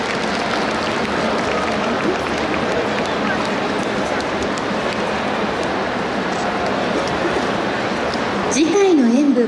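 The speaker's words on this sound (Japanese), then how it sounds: "大きな拍手をお送りください。" A festival crowd claps for dancers at an arena stage during a hometown festival event in Tokyo, steady loud applause rolling on before a voice starts speaking at the end.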